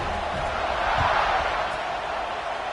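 A football stadium crowd at a Georgia Tech vs Florida State game keeps up a steady broad roar of cheering, distant and continuous throughout.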